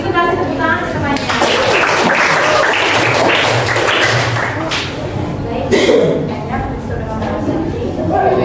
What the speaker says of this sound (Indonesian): Terus itu kasih tepuk tangan semuanya.